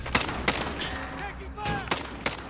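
Sharp gunshots crack in scattered bursts in the video game Call of Duty Warzone, several distinct reports over about two seconds with game ambience and a voice speaking between them.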